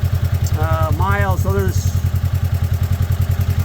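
A warmed-up 2014 Polaris RZR 900 idling close by, a loud, steady, rapid thumping engine pulse throughout, with someone talking briefly over it.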